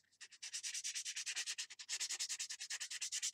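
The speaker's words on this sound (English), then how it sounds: "we're just going to keep sanding until we achieve the roundest edge that we want" Rhythmic sanding of paper-covered model rocket fin edges on an Estes Vagabond with strap-on boosters, a steady back-and-forth rasp of close, even strokes running continuously with no talk.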